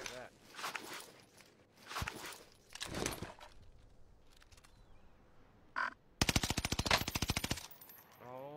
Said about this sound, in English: He's shooting at me now.